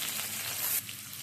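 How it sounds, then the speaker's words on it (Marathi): Chopped onion and a little tomato shallow-frying in a pan for healthy noodles, a close steady sizzle with a brief brighter hiss and stirring. "कांदा थोडा शॅलो फ्राय झाल्यानंतर मी थोडासा टमाटा पण ॲड करते."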